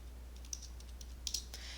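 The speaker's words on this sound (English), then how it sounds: "So let's type that in." A few faint, sparse keystrokes tapped on a computer keyboard while entering a calculation, soft clicks spaced irregularly over a low steady hum.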